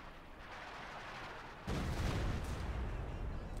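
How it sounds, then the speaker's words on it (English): B4 howitzer artillery in Company of Heroes 2 fires with a sudden loud boom partway through, its heavy rumble lingering over a steady bed of game battle noise. "And B4 firing again."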